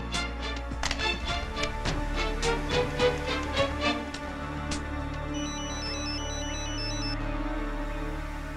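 A mobile phone gives a short, repeating electronic ringtone melody that comes in after a run of sharp taps and music, moderately loud over a steady background score.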